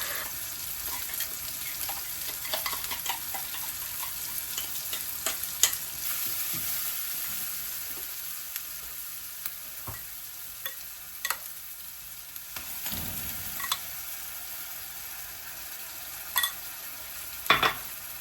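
Onion and tomato sautéing in a pan while being stirred: a steady low sizzle runs throughout, with scattered spoon scrapes and taps, louder clinks near the end, and no talking.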